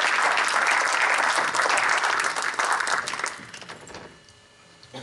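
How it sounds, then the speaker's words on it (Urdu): Loud, dense applause from an audience at an Urdu Academy tribute gathering, sustained for over three seconds before thinning out and fading to near silence. "زوردار تالیاں"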